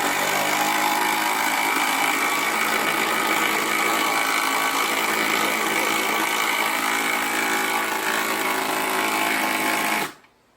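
A cordless impact driver runs continuously for about ten seconds while driving a fastener, a loud, close, buzzing mechanical whine that stops abruptly at the end.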